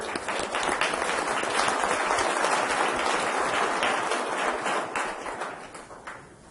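An audience at a city council meeting applauds, a dense wash of many hands clapping that swells, holds steady and then fades out toward the end.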